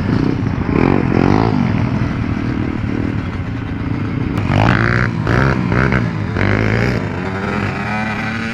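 A Suzuki RMZ 450 dirt bike engine runs steadily close by, its rough, throaty idle rising in a few short revs midway, with clattery mechanical noise throughout.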